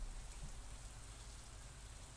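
Steady, soft rain ambience from the farming game Stardew Valley, an even, quiet hiss of falling drops that continues without a break.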